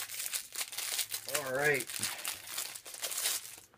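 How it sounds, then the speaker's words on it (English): WWE Shop merchandise is pulled from thin plastic packaging, giving close crinkling and rustling throughout while someone speaks briefly. "I'll open these off camera first out of the package"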